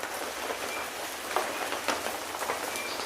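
A heavy downpour drums steadily on the ground in a small garden, a dense continuous hiss of rain with scattered louder drops and no voices.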